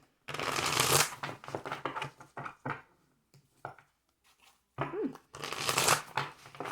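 Tarot cards are shuffled close up in quick riffling bursts, separated by soft taps and handling sounds, then a final flurry.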